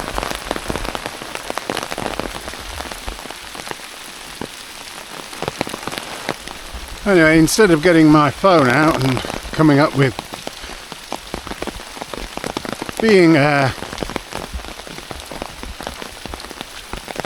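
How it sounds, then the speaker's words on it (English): Heavy rain pours down outdoors, a dense, constant hiss of drops drumming on surfaces throughout, with someone speaking over it in two short stretches. "Let's carry on wandering down in the downpour, in the drenching."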